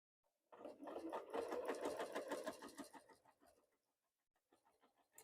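Sewing machine running fast while free-motion stitching back and forth on denim jeans, a steady close rattling hum for about three seconds, then stopping before a brief faint restart.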